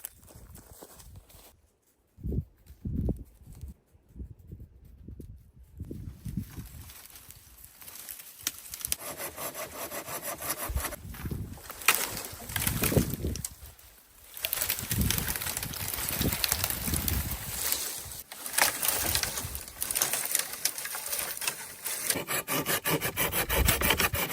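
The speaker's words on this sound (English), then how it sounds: "The man saws and splits dry branches into manageable firewood, ensuring he has enough fuel for the entire night." Dry branches being cut into firewood with a hand saw in a snowy forest: after a few knocks, a long run of rough, rasping strokes builds up, close and fairly loud, with no speech.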